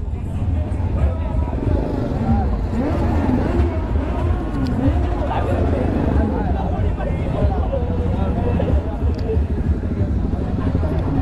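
Dense engine rumble from a large gathering of superbikes at a Republic Day ride, including a BMW S 1000 RR, forms a continuous loud roar with crowd chatter mixed in.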